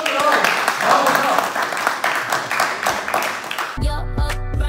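Handclapping from a small group indoors, irregular claps under cheerful voices, giving way near the end to a burst of music.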